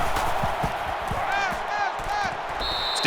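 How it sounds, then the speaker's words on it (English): A stadium crowd roars steadily through a college football game in NCAA 14, LSU at Alabama, a dense wash of cheering with a commentator talking over it. "And this crowd is going absolutely crazy"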